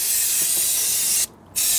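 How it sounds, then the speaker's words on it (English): Aerosol brake cleaner sprayed onto a Nissan Micra K11 wheel hub, a loud close continuous hiss with a brief pause near the end before spraying resumes. "So you're just spraying it off with brake cleaner."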